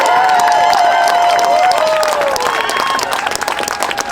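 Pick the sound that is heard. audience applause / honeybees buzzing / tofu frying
audience applause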